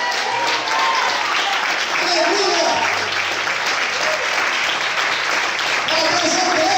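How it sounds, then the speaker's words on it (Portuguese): A church congregation claps in sustained, dense applause throughout, with voices shouting praise over it, loud and close, filling the room at night worship. "Todos podem aplaudir e adorar o Senhor essa noite."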